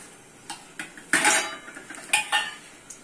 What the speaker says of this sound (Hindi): दाल को छेड़ते रहेंगे